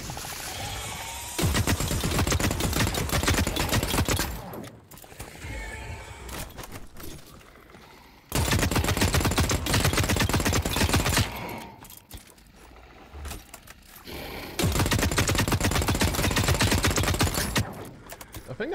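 Sustained bursts of Manticore automatic gunfire aimed at a Howler creature in The Cycle: Frontier, three long loud volleys of rapid shots separated by quieter gaps with faint mechanical sounds.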